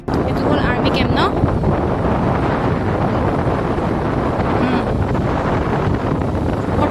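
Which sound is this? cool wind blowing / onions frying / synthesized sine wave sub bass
cool wind blowing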